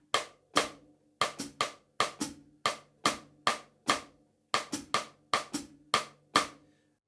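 Snare drum played cross-stick in a steady Brazilian Partido Alto pattern without accents, sharp dry clicks in short grouped bursts, played alone and evenly at moderate volume.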